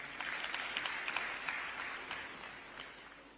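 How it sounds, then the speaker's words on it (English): A conference audience claps for the Barrick Lumwana presentation, a soft, distant, fairly steady rush of many hands that slowly tapers off. "a round of applause to Barrick Lumwana"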